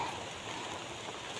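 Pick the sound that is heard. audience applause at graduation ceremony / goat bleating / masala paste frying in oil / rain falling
rain falling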